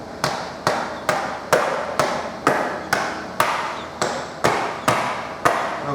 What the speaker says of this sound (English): use the soft part of my mallet